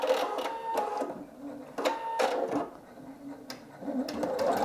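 A Singer EM9305 embroidery sewing machine stitches up close, a fast mechanical whir broken by rhythmic clicks and short pauses as the needle moves, with no talking.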